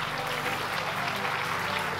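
A church congregation applauding, a dense, continuous wash of clapping that fills the room at an even level, with faint voices mixed in beneath.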